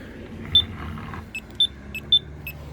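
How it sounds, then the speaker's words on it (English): A Polara Bulldog crosswalk push button at a roundabout gives several short, high beeps in an uneven sequence over faint background hum, with no one speaking. "This thing likes to beep a lot."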